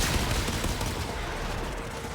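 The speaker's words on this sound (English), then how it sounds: "I like this rifle. It makes shit go boom like whop." Rifle gunfire in a shooter video game, a dense, continuous barrage of shots forming a steady roaring wash of noise, moderately loud with no talk.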